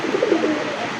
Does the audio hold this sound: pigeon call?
yes